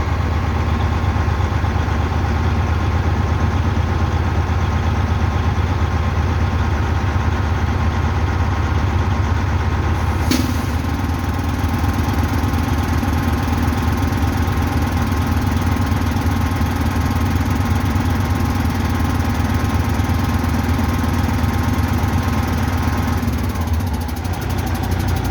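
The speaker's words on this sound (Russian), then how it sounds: "Слушайте, как мотор работает, как отключает форсунку каждую," A car engine idles steadily during diagnostics while each fuel injector is switched off in turn, a loud, constant running drone with a brief click and a slight shift in tone partway through, with no talking.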